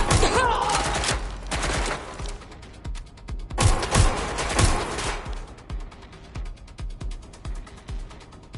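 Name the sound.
gunfire in Watch Dogs Legion video game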